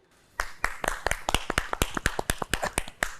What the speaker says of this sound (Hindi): जिसने अच्छा खेला तालियां बजा दे अपने लिए